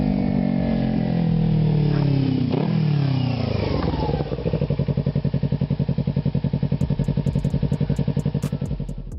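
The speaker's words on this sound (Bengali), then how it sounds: "একটা সেরা মানের বাইক এই কাওয়াসাকি নিনজা। এটার এক্সস্ট সাউন্ড এক কথায় মাথা নষ্ট করার মতো।" A Kawasaki Ninja 250R motorcycle revs loudly and close by, its exhaust note rising and falling in sweeping pitch changes before settling into a steady, throbbing idle with a rapid pulsing rhythm.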